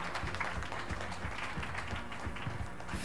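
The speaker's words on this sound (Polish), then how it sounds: "Prosimy jeszcze raz o brawa dla wszystkich dzisiejszych artystów." Audience applause at a school talent show fills the space with a steady, dense wash of clapping that holds at an even level throughout, without a break.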